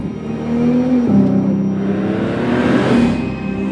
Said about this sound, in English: Everything you get from a sports car. Jaguar XF.